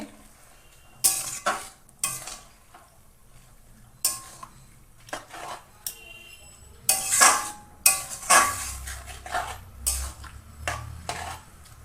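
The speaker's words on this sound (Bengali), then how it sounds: "এবার নেড়ে দেবো ভালো করে" A spoon stirs small fish curry with mixed greens in a pan, producing repeated scraping and clinking strokes in irregular bursts, with a low sizzle underneath and a few louder knocks later on.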